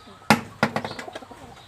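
Madras pigeon chicks cooing nearby: two sharp onsets followed by a run of soft, rapid throaty calls that fade within under two seconds.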